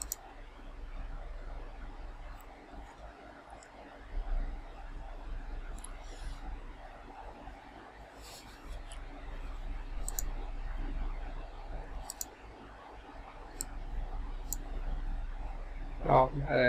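A computer mouse clicks on a computer running phone unlock software for a Vivo Y15. A few sparse, sharp clicks sound over a low background hum.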